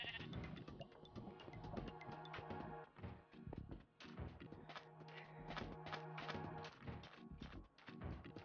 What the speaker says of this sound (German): Da ist ein schwarzes Schaf